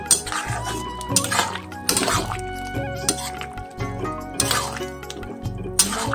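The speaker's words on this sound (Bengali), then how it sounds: "নাড়াচাড়া দিয়ে মিশিয়ে নামিয়ে নেব" A spatula scrapes and clinks against a pan while soybean curry with garam masala is stirred. The knocks come in a steady, repeating rhythm, close and fairly loud, with no talking.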